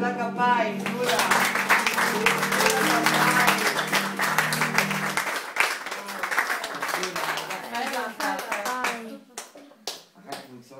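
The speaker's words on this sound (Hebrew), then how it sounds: "תודה כפיים, כולם" Applause at a challah-separation gathering led by a rebbetzin, steady clapping mixed with voices and singing that thins into sparse, separate claps toward the end.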